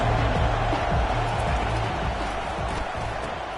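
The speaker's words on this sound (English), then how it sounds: "this crowd is turning it up a notch" A college football stadium crowd roars in a dense, sustained wash of cheering during an NCAA game, loud and steady throughout with no distinct voices standing out.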